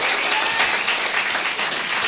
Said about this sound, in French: j'aimerais ça qu'on lui donne une bonne main d'applaudissement